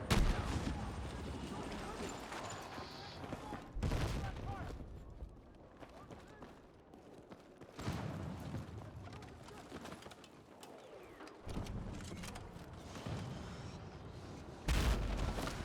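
Repeated mortar and gunfire explosions in the Battlefield 6 shooter game, sharp broadband blasts at about 4, 8, 12 and 15 seconds over continuous battle noise, with players talking over the top.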